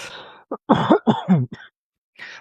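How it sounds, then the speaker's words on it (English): A person coughs and clears their throat several times in quick harsh bursts, close up, with short pauses between. "Excuse me, I'm still coughing."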